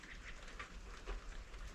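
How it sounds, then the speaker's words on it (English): Steady rain falling outdoors near a parked RV, an even close hiss of drops on surfaces with a low rumble underneath, alone and without talking. "the rain's back"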